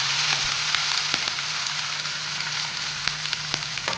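Ginger and green chilli paste with curry leaves frying in a pan for a raw banana curry, a steady bright sizzle with a low hum beneath and a few sharp pops scattered throughout, no talking.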